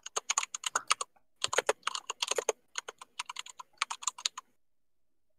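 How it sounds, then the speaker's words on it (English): Computer keyboard keys clicking in rapid bursts during a live stream, close and fairly loud, with short pauses between flurries of typing and no talk. "Can you guys hear my keyboard clicking?"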